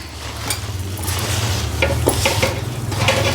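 Mustard pickle mixture being stirred by hand in a pot, a steady scraping and churning with soft wet clicks over a low constant hum, close and moderately loud throughout.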